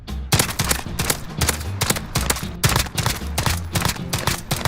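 Gunfire in the Call of Duty: Modern Warfare video game crackles in rapid, loud bursts of repeated shots, close and continuous with short gaps.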